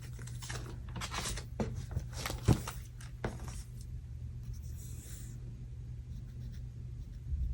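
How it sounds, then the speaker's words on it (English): A pen scratches across paper in a Hobonichi Cousin planner, with close, steady strokes and short pauses, then quieter room noise once the writing stops. "Okay, writing time."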